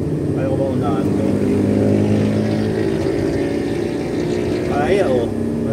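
A Suzuki DA17V 4x2 manual non-turbo van engine drones steadily as it climbs a hill in third gear at night near Antipolo, a loud, continuous cabin hum with someone talking over it.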